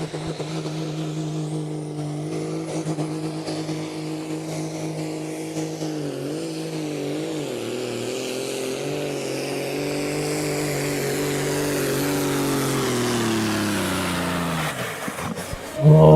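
The Evil Deceiver pulling tractor, driven down the track at a beach pull in Putten, roars at full load with a loud, steady engine note that sags and dips in pitch as the revs fall during the pull, then cuts off abruptly at the end.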